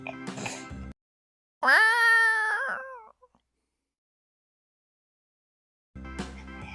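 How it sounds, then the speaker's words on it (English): A cat in a children's alphabet song lets out one clear, drawn-out meow, close and loud, set between short musical passages with silence after it. "C for cat. C for cat."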